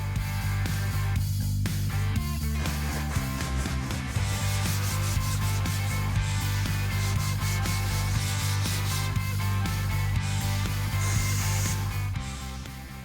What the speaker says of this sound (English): All we really need to do is a little bit more sanding on this and we can prime it and paint it